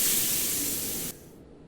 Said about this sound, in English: pan fry the halloumi on both sides until properly browned to your liking